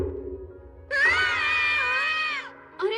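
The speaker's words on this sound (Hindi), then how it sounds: "तुम दोनों चिल्ला क्यों रहे हो?" Two cartoon characters scream together in a long, loud, wavering shriek lasting about a second and a half, followed by a brief second yelp, over a quiet background.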